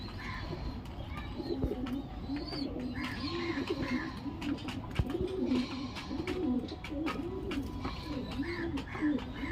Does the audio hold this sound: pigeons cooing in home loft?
yes